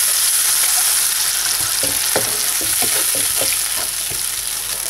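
Steady loud sizzling from a hot pan of softened tomato and onion as water is added, with scattered crackles and pops, no voices.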